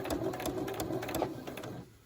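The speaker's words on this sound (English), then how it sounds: "And now we're going to continue stitching" A sewing machine runs steadily while stitching a fabric face mask, its needle pulsing in a fast, even rhythm close by before the motor slows and stops near the end.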